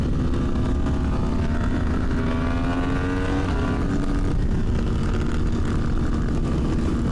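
A motorcycle engine is held at wide open throttle on a road ride, its loud continuous roar climbing steadily in pitch, then dropping back as a shift comes, heavy wind rush throughout.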